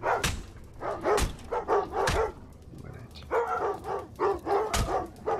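Guard dogs in the video game Thief (2014) bark in short, sharp bursts, several in quick succession, then a pause and another run of barks, loud and close.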